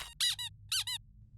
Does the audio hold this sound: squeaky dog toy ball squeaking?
yes